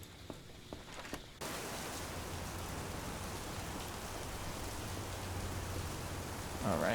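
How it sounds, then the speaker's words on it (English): Rain in the game Big Ambitions, starting abruptly after a second of quiet and then holding as a steady, even hiss of falling rain with no voices over it. "It's raining again."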